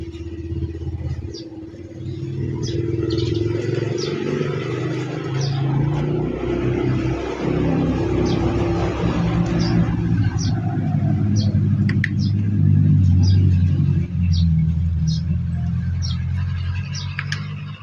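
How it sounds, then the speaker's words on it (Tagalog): A Yamaha Aerox 155 scooter with a freshly cleaned, wet throttle body cranks without starting, producing a continuous low mechanical churn with faint ticking, heard up close for a long stretch. "Puro redundo lang at ayaw umandar"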